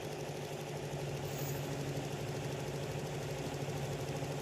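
A repaired Komatsu PC50 mini excavator engine running after an overhaul, fixed for water mixed into the oil. It makes a steady, even idling drone with a constant low hum and light rattle, no voices.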